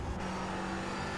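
A GT3 race car passes in a sim racing game at Road America, giving a loud, steady engine roar that fills the whole moment without a break.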